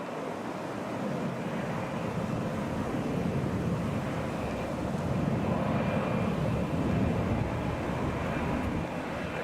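An airliner climbs out after takeoff from Atlanta's Hartsfield-Jackson airport, a broad, loud, steady roar of jet engines with wind rush, holding level and swelling slightly toward the end.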